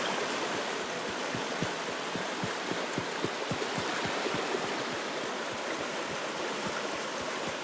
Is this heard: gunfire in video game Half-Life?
no